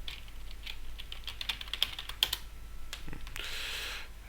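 Someone types on a computer keyboard, a quiet run of irregular key clicks with a few sharper taps, and no one speaks over it.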